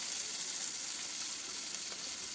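Cleaned squid, washed with turmeric, hits a hot pan and sets off a steady, loud, broadband sizzle of frying that holds evenly throughout with no talking.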